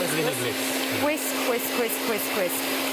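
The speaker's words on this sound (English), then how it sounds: "And we literally just whisk." Four eggs and 125 grams of caster sugar are whisked together with a steady, whirring motor whine and a constant hum, moderately loud and unbroken for the whole stretch.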